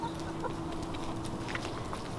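A black and white backyard hen clucks softly and intermittently in a chicken run, her low calls sitting under a steady outdoor background hum.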